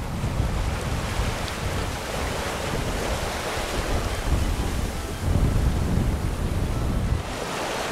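Steady wind rushes over a sailboat under way near Earl Ledge, with broad waves and water wash and microphone buffeting, loud and continuous, swelling stronger toward the end, with no voices.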